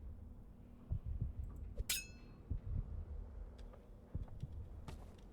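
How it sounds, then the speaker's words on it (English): A faint, rhythmic heartbeat pulses in the horror video game In Sound Mind, soft low thumps repeating under quiet ambient hum, with a sharp metallic clink partway through. "That is a heartbeat I'm hearing,"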